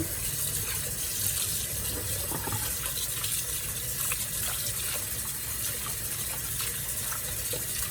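Tap water gushes steadily into a sink as salted cabbage is rinsed for kimchi, a continuous close splashing flow with no talk.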